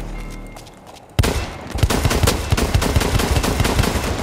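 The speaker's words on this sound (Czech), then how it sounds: "To je střela z pistolete" Rapid pistol and automatic gunfire from the video game Blacklight Retribution, a quiet lead-in giving way to a sudden loud burst and then dense, continuous volleys of shots with no pause.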